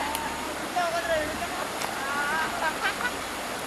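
River water rushes in a steady, broadband wash nearby, with faint tonal squeaks and brief clicks above the constant flow.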